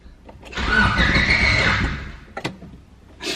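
A swapped engine in a Honda Civic cranks over with a rapid grinding whirr for about a second and a half, then stops without catching, followed by a couple of clunks.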